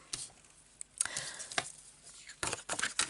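Scissors snip and rustle through paper in irregular, close cuts, with crisp bursts and short pauses between them.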